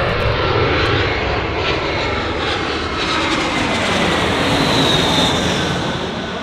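Loud, continuous roar of an airplane engine running close by during an outdoor photoshoot, a dense steady wash that swells slightly and never lets up, with no talk over it.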